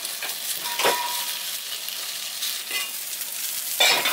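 Green onion bottoms fry in a pan with a continuous bright sizzle, broken by a few short stirring scrapes and clatters.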